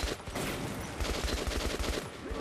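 An AK rifle fires in Metro Last Light Redux as sustained automatic bursts, loud and close, with rapid, steady shots over a dense, echoing background.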